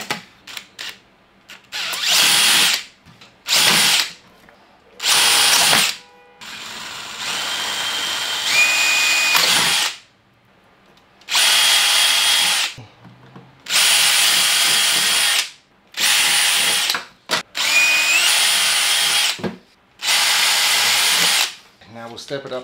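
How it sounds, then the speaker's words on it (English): A power drill whirs in repeated bursts while drilling a 7 mm hole in acrylic, starting and stopping many times, close up and loud, with short pauses between runs. "We're trying to drill a hole about 7 mil wide."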